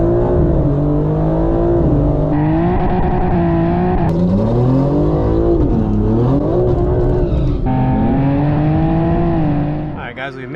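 A rear-wheel-drive BMW G82 revs hard at the track while launch control is being tried, its engine note rising and falling through repeated loud, sustained pulls, with a voice talking over it.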